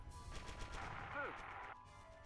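A tank cannon fires in the video game Theatre of War, a single loud blast with a brief rolling tail that cuts off abruptly, set against steady background game noise.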